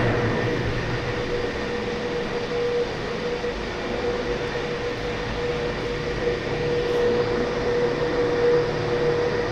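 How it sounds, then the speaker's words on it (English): A steady, loud mechanical drone and rumble from the San Francisco cable car machinery that drives the underground cables, a constant hum with a faint tonal whine and no talk. "So these are all the machines that run the cables that drive those old trams around."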